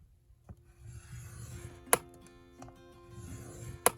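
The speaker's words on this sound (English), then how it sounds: "And then I'm going to score at 1/4 of an inch." A scoring tool drags along paper on a board while a craft matchbook box is made, soft rubbing strokes, each ending in a sharp click, heard close and quiet.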